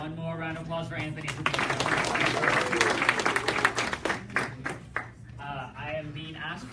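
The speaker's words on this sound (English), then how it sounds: "One more round of applause for Anthony." Audience applause for Anthony at an Ignite talks event in 2017, a burst of clapping from a crowd with voices talking over it, rising in the middle and tapering toward the end.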